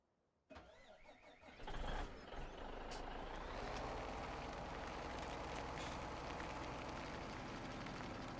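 Tractor with a trailer in Farming Simulator 17 starting up and running as a steady, loud engine drone after a brief rising rev, no talking.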